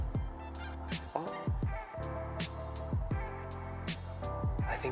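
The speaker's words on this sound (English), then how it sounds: "I think there's a cricket in the vacuum." A cricket chirps steadily inside a Challenger, its shrill high-pitched trill repeating close by while an irregular series of knocks and thumps sound underneath.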